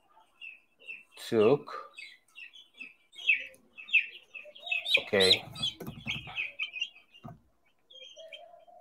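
Broiler chicks picked at random chirp and peep in a crate while being weighed, their calls scattered and fairly close, with someone speaking briefly over them.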